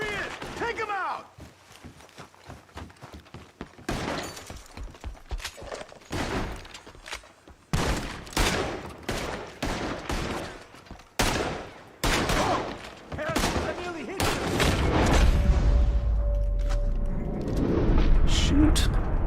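Gunfire in Red Dead Redemption 2, sharp single shots and short volleys cracking at irregular intervals, loud and near, with voices talking between shots and a rumbling low roar building toward the end.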